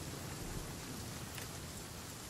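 Rain falling in the survival video game The Flame in the Flood: a steady, dense hiss with no pauses and no voices.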